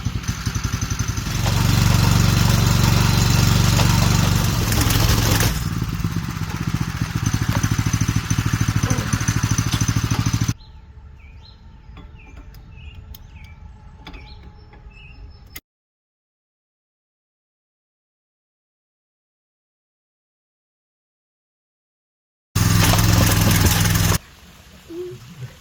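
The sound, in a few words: petrol engine running for digging post holes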